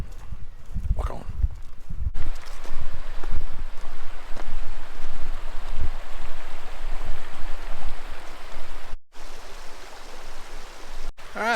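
Clifty Creek flowing at a trail water crossing in Clifty Falls, Indiana, a steady loud rushing of water with wind buffeting the microphone and a few footsteps or knocks near the start, no talking.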